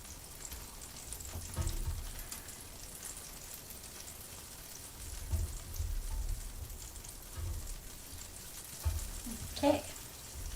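Meat browns in olive oil in a pot for roast beef soup, a soft, low sizzle with occasional louder crackles and stirring bumps, fairly quiet and steady.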